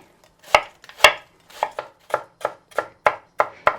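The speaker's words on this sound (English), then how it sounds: "I'd use about 1/4 of a red onion, chopped very finely" Knife chopping a red onion very finely on a cutting board, about ten crisp, close chops in an irregular rhythm, with no talking.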